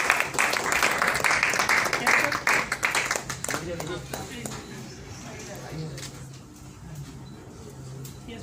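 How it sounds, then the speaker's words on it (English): An audience claps at the launch of a SARS-CoV-2 RT-LAMP test kit, brisk applause that is loud at first and then fades into scattered claps while people talk over it. "A huge round of applause, please."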